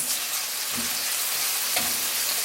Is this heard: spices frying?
yes